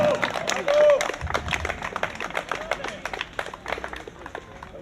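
An audience claps in scattered, uneven bursts after a 250 kg lift at a 2012 youth strongman competition, while a loud voice calls out over the clapping.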